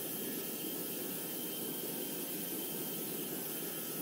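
Airplane engine in the GeoFS flight simulator game, a steady unbroken jet-like roar held at an even level throughout, with no voices.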